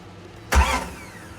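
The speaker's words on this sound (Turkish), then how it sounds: "Bir kayışı yeni taktıysam mutlaka önce yarım marş yapar, her şeyin yolunda olup olmadığını kontrol ederim." A Jeep Grand Cherokee ZJ with the 5.2 V8 gets a brief starter crank just after a belt change: a sudden loud catch that fades quickly as the engine settles, heard up close.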